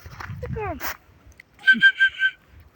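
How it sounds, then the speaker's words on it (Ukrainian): A person whistles a short run of four clear, steady notes, fairly close and loud, following a brief stretch of talk and a rising voiced sound. "О, ты свистеть умеешь."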